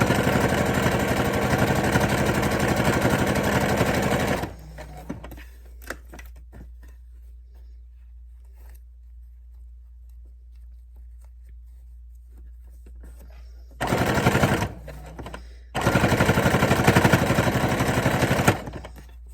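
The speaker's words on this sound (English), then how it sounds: "And I'm just going to continue stitching." Sewing machine running in steady bursts while stitching a pleated cloth face mask with binding: a loud whirring run of several seconds, a long quiet pause, then two more close, even stretches of stitching.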